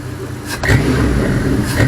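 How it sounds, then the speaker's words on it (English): A 5.3 LS V8 engine idles at about 700 RPM on a test stand, a steady low rumble close by, with a voice speaking briefly over it. "It's a 700 RPM idle."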